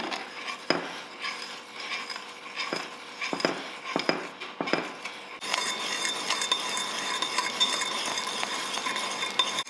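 Custard being stirred in a pot on a stove, a spoon scraping and tapping against the pan in irregular strokes, then a steadier continuous scraping and bubbling texture, close and moderately loud.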